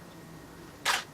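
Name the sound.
camera shutter firing with cable-triggered flash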